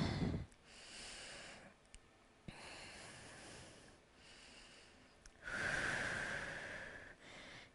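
Slow breathing during a hip-opening yoga flow, with several long, soft, close breaths through the nose separated by quiet pauses, the last one fuller and louder.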